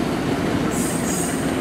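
A train passes through a station on the Manggarai line, a steady loud rumble of wheels on rails with a thin, sustained wheel squeal rising over it partway through. No voices.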